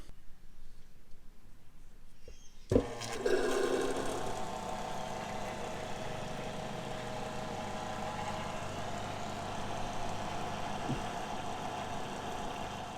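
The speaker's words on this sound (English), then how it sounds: "you put the feed line into your diff, you hit the go button, and pump away" A hand fluid pump feeds gear oil through a line into the differential of a Toyota Landcruiser 200 Series. After a quiet start, a sudden clunk opens a steady mechanical hum and churn that runs on evenly, with no talking.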